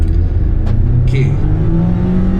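Proton Saga with a 1.5L engine pulling hard at full throttle, a steady loud droning rumble that climbs in pitch, heard from inside the car.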